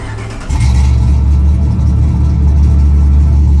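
A HEMI-swapped Jeep Renegade with a 5.7 liter HEMI V8 fires up, a brief lower idle jumping into a loud, steady, deep engine drone that holds to the end, close by.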